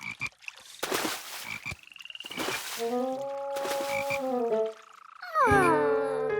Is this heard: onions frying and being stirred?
no